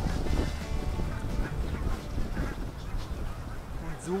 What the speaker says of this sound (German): Hier in Ostfriesland sind nämlich die Gänse unterwegs, die man hier schön sehen kann.